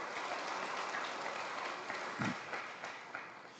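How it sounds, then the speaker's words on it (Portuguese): A church congregation applauds during a Portuguese-language Easter sermon, a steady wash of distant clapping held at an even level for a few seconds with one brief thump partway through. "Dê um aplauso ao Senhor Jesus"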